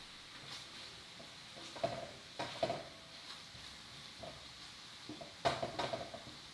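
Chorizo being flipped and broken up with a spatula in a pan, a quiet background sizzle with several soft scrapes and clinks of the spatula against the pan.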